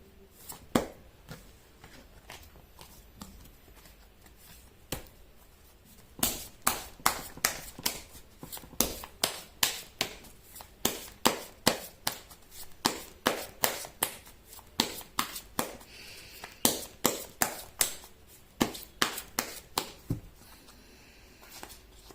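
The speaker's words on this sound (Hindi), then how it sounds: "मैं कर लेती हूँ कार्ड की शफलिंग" Tarot cards being shuffled by hand: sharp rapid riffles and taps repeat in quick bursts, close and crisp, with short pauses between rounds and no talking.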